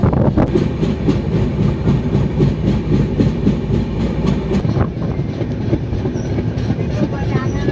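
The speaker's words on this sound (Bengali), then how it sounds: "কলকাতায় 9:25 ট্রেন ছুটছে তার আপন গতিতে।" Passenger train running from Kolkata toward New Jalpaiguri, heard from on board as a loud, steady rumble with rhythmic wheel clatter throughout.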